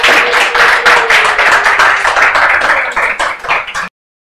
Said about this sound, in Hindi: एक बार जोरदार तालियां आप सब लोगों के लिए